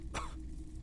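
A single short cough from a character in the video game Disco Elysium, one sharp burst over a faint background hum.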